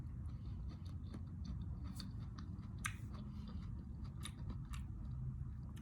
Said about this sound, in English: Why was I chewing so loudly?